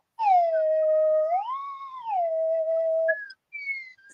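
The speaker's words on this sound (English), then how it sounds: "No, it took 3 slide whistles." A slide whistle played solo, one sustained clear tone that bends up, holds and glides back down, followed by two short higher sliding toots.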